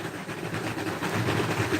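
Model railway train running on a home layout, a steady rolling clatter with a loud motor hum held evenly throughout, close by and without talk.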